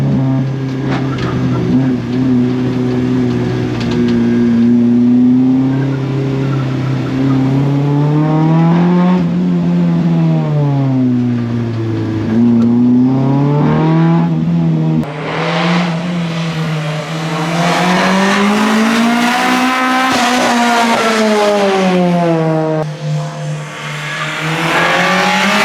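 Engine of a Honda CRX revving while driving, a loud, close in-cabin drone that climbs and falls in pitch through repeated gear pulls, with brief dips at shifts.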